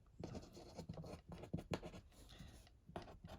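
Chalk or marker writing small on a board during a math lesson: a close series of short scratchy strokes in quick irregular bursts, fairly quiet, with no talk.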